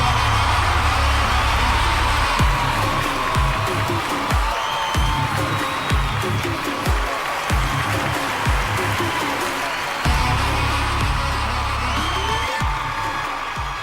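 A packed hall at a movie audio launch erupts in loud, sustained applause with whoops and cheers for a music composer being called on stage, a dense roar of clapping and shouting that barely fades.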